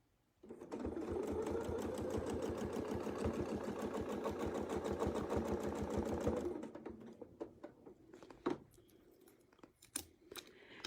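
A sewing machine with a Westalee circle set stitches over a circle several times, a steady fast needle rhythm running for about six seconds, then stopping into sparse clicks and handling sounds.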